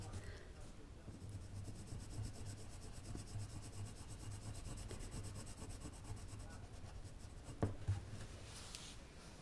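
Coloured pencil scratching and rubbing on paper as a ladybird is coloured in, Irojiten pencils, a steady soft scribbling texture through most of the stretch, close and quiet with a faint low hum underneath.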